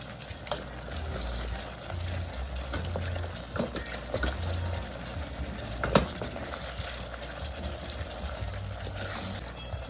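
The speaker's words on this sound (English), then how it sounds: "I'm boiling my seasoning. I'm boiling it until it's become brown." A continuous bubbling sizzle from a pot of Jamaican patty seasoning boiling until brown, with a few soft clinks and stirring sounds, and no talking.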